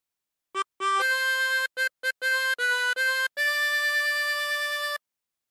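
A 16-hole tremolo harmonica plays the Home on the Range melody alone, a short phrase of separate blown and drawn notes with brief gaps, then one long sustained final tone, clear and close.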